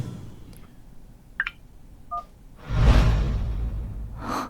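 A few short telephone dialing tones beep faintly in a quiet room, followed by a swishing whoosh, in a drama scene.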